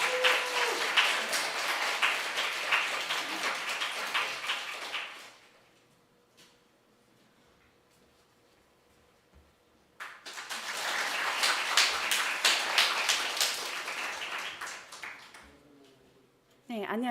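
An audience applauds to welcome a speaker at a youth hope-sharing gathering, a burst of clapping that fades into near silence, then a second strong round of applause resumes before cutting off.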